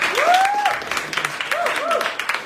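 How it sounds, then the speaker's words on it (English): An audience at a live slam event claps for the judges, a brief burst of applause mixed with a person speaking over it. "So a round of applause for our judges."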